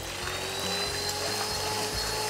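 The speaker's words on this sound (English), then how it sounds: "we're just going to whisk them to stiff peak before we add the sugar" Electric whisk beating egg whites to stiff peaks for a lime and coconut meringue pie, a steady motor whine with slight variations as the beaters move through the bowl.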